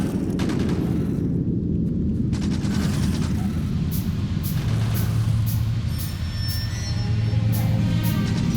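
Gun turrets in Factorio fire steadily at an endless stream of biters, producing a continuous dense rattle of automatic gunfire with rumbling impacts beneath it, loud and unbroken throughout.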